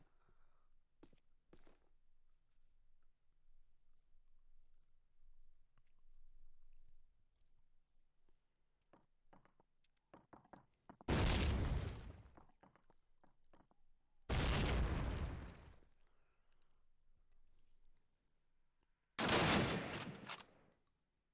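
Three heavy blasts of grenade and gunfire from a competitive Call of Duty esports match, each a short, loud, close burst separated by a few seconds of quiet, faint game ambience.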